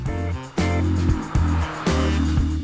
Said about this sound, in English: It builds up speed easily and revs past the 6000 RPM mark quite comfortably as well.